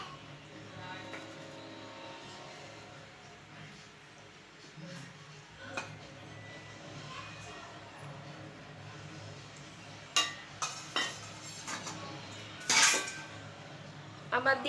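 Chicken being added to a biryani pot and stirred, heard as faint, intermittent clinks and scrapes of a utensil against metal, with a few louder clatters toward the end and some quiet talk in the background.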